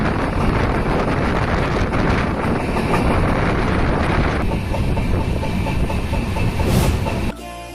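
A passenger train at dawn rolls along the line in Bangladesh, a loud continuous rumble with wind rush against the carriage, the roar easing slightly midway before dropping off abruptly near the end.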